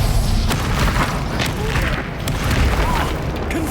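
A Bombarda spell blasts in Hogwarts Legacy, a loud, continuous booming explosion with dense low rumble that fills the whole moment, up close and overwhelming.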